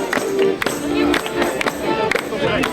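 An audience at a seniors' club celebration claps for the performers, a loud, close burst of applause with uneven claps and some voices mixed in.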